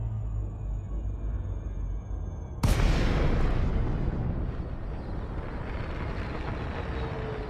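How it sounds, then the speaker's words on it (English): A spaceship in a video game dropping out of jump space, a steady drone that gives way to a sudden loud whooshing burst, then a broad rumbling roar that slowly settles, with no voices. "we are dropping from jump space now"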